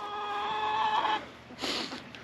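Backyard homestead chickens being fed kitchen scraps, with a sustained nasal cluck-squawk followed by a brief sharper call, close by and moderately loud.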